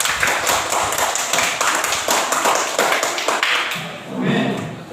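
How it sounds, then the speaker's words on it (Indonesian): Classmates clap for a group after a classroom presentation, brisk, fairly loud clapping from a small group of hands with voices and room noise mixed in. "tepuk tangan untuk teman-temannya dulu"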